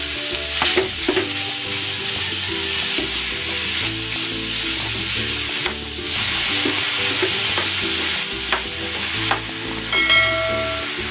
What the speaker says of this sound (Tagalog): Igigisa ko na itong giniling.